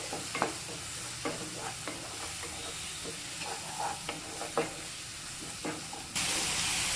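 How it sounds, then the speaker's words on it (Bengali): Spice paste with garam masala powder is stirred and fried in oil for chana masala, with repeated spatula scrapes and taps over a continuous close sizzle. "এবার আমি মশলাটা ভালো করে কষিয়ে নেব মশলাটা ভালো করে কষিয়ে নিতে হবে যতক্ষণ না তেল ছাড়ছে"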